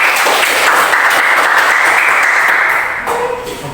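A classroom of students bursts into dense, loud applause that holds steady for about three seconds before tapering off.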